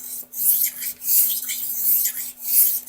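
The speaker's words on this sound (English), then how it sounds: "Basically I'm just going through the motions of setting a bevel on an undamaged razor" A straight razor in good condition is stroked across a hone to set a bevel, giving a close series of short, soft rasping swipes in a quick back-and-forth rhythm.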